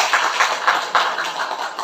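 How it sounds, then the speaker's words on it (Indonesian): A church congregation at a New Year's opening service claps for God, a steady run of rhythmic, moderately loud claps with no talking. "Kasih tepuk tangan buat Tuhan."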